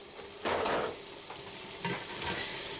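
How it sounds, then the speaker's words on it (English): Flour being stirred into melted butter in a pan for a baking stream, a near scraping and sizzling stir with a louder burst early and a second pass later, no voices. "Mix all the flour in."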